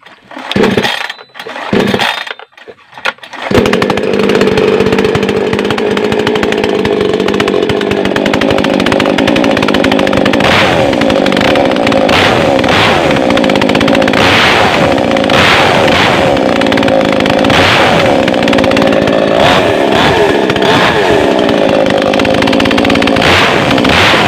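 A new Makita chainsaw starts after a few pull-cord tugs, then runs steadily for a test at a loud, close, continuous buzz with a few revs rising and falling.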